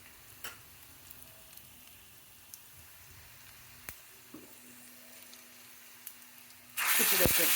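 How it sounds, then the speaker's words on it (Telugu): Cluster beans with onions and tempering spices hit hot oil in a pan for stir-frying. After quiet kitchen ticks and clinks comes a loud, sudden, close sizzle. "ఇప్పుడు వేపుడు చేస్తున్నా."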